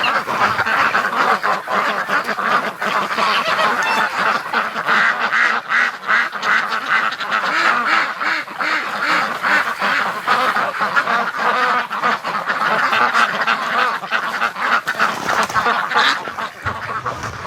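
Geese honking and Muscovy ducks quacking around a water tub, a dense, continuous chorus of close, loud, overlapping calls with no break throughout.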